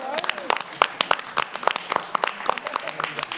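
A small audience at a school board meeting claps, distinct individual hand claps in a quick irregular patter, close and fairly loud, with a few voices mixed in.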